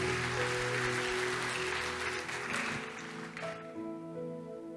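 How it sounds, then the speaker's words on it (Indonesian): Congregation applauding inside a church during a Sunday service, a broad steady wash of clapping that fades near the end as tonal music rises underneath. "Tepuk tangan buat Tuhan Yesus Kristus."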